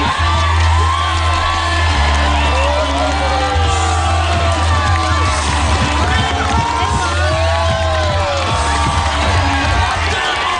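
A large crowd at the Ironman China 2009 triathlon finish line cheers and whoops steadily for the winning athlete, a dense, loud wash of shouts and whistles with a low rumble running underneath.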